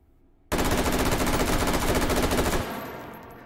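A fully automatic burst from an M4A1 carbine fitted with a muzzle brake in the VR game H3VR: a loud, dense stream of rapid shots lasting about two seconds, then a fading echoing tail.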